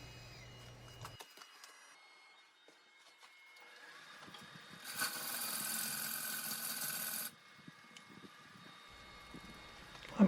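A woodturning lathe tool sizes the tenon on a bowl turned from a log, giving a close, rough scraping hiss that lasts about two seconds in the middle amid quieter hum and occasional light scrapes.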